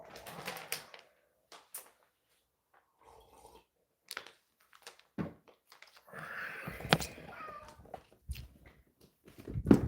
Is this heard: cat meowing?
yes